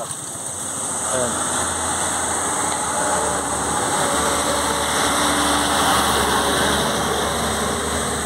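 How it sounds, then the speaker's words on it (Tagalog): A truck engine idles in a continuous low rumble that holds steady and fairly loud throughout, with some faint background noise on top. "Pakinggan niyo mabuti yung truck."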